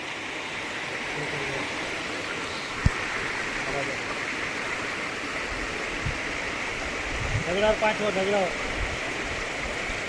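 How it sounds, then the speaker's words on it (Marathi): A waterfall stream near Trimbakeshwar rushes in a loud, steady broadband roar as people cross it on foot, with voices calling to each other close by over the water. "धबधबा क्रॉस करतोय काय आम्ही."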